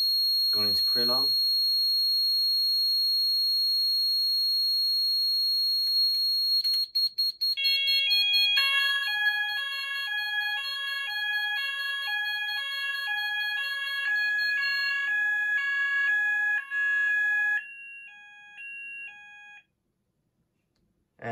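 A Kentec Syncro fire alarm system sounds during a test, first a continuous high piercing tone, then switching to a repeating two-tone warbling alarm pattern that cycles steadily before cutting off, with a brief voice at the start.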